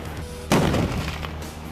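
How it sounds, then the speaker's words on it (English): An X-O2 explosive blast simulator detonates in a single sharp, loud boom with a brief rumbling tail, heard once in the middle of a short stretch of background noise. "The X-O2 can be used to simulate artillery."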